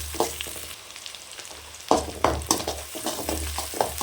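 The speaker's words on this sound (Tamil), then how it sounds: "இஞ்சி பூண்டு, நல்லா இந்த இஞ்சி பூண்டெல்லாம் செவக்க நல்லா வதக்கலாம்." Chopped ginger and garlic sautéing in a pan for a rabbit fry, a close sizzle broken by sharp scraping stirs and spoon knocks at an uneven rhythm, with a low hum underneath.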